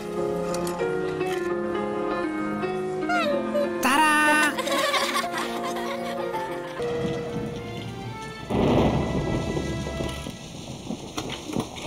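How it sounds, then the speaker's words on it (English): A thunderstorm in an animated children's show about monster machines: heavy rain with a few thunder bursts underneath background music, surging louder partway through. "In this severe storm, I cannot bring myself to leave the command bridge."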